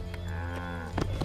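A cow in the video game Assassin's Creed 3 gives one drawn-out low moo, close and clear, ending with a few brief knocks.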